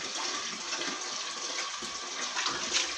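Tap water runs steadily over fish pieces being rinsed and cleaned of scales, a continuous close splashing hiss with small surges as the pieces are handled, no voices.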